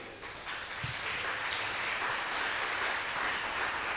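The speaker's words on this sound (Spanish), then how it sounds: "Pues dale una ofrenda de palmas al Rey." A church congregation claps steadily at a Spanish-language worship service, giving dense, even applause that holds at the same level for the whole clip with no talking over it.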